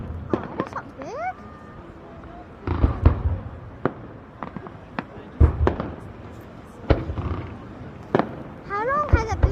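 Fireworks burst over Cromer in a public display, with loud booms and crackles spread irregularly and whistling rockets rising, while excited voices talk throughout.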